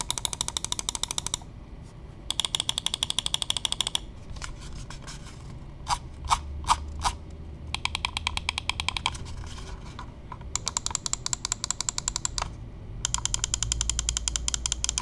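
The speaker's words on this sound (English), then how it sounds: "drop a sound test on what all the clicks on this mouse sound like" Button clicks from a VGN Dragonfly F1 Pro Max gaming mouse, crisp rapid bursts of clicking in groups, with a few slower single clicks partway through, close and fairly quiet with no voice.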